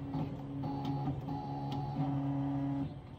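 An embroidery machine traces the outline of a design on gloves, giving a steady mechanical whir with a few small clicks and ticks. It runs continuously and close up for most of the clip, then drops off near the end.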